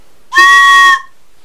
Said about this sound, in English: A bit ago I made a train whistle, a round train whistle.